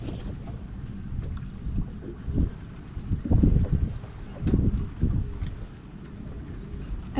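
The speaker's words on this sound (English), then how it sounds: "It's really windy out today." Strong outdoor wind buffets the microphone around a sailboat undergoing bracket repairs, a steady low rumble swelling into several loud gusts in the middle before easing off, with no talking.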